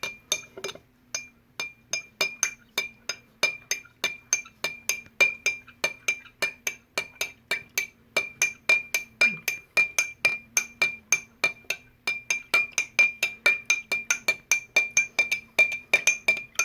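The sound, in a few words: stirring dish soap in a glass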